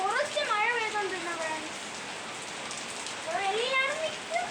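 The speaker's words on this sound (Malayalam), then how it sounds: "ഫ്രണ്ട്സ് കണ്ടോ എന്ത് മഴ!" Steady rain falls and patters on surfaces, easing after a heavy downpour, with a hissing wash throughout as people talk over it.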